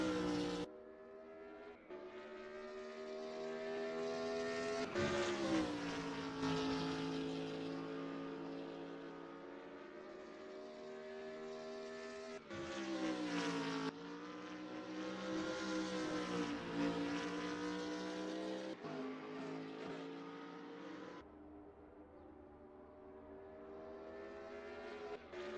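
GT3 race cars, including a BMW Z4 on soft tyres, lap Vallelunga in a racing video game, with sustained engine tones rising and falling through gear changes, a few sharp shifts and passes, and no talk.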